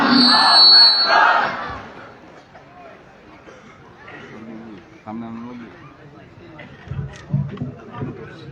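A large religious gathering in Dhaka answers a takbir call with a loud, unified crowd chant that swells and fades within the first two seconds, followed by quieter murmuring and scattered voices.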